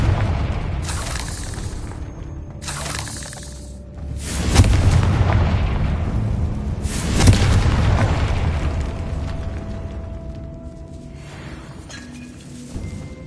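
Confringo blasting spell explosions in Hogwarts Legacy, fired inside a decaying catacomb, two heavy booming blasts with rumbling tails over a continuous low ambient roar, no talking.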